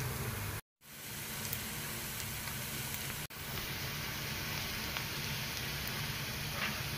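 Sizzling of onion and ginger frying in a pan as tomatoes go in, a steady close hiss with a brief dropout near the start and a short break around three seconds.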